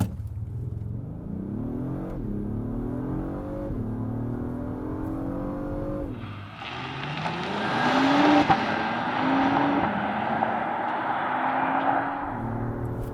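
Cabin view of a 2025 Acura MDX Type S with a 3-liter turbo V6 under hard acceleration: the engine note climbs in pitch through several gear changes, then swells into a louder, rougher roar with whining overtones, no talk.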